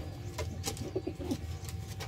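A racing pigeon coos softly in a few short, repeated calls over steady low background hum, with no talking.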